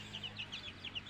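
Chickens give soft, rapid clucks in a coop on a small farm, a quiet, steady string of short calls against a low background hum.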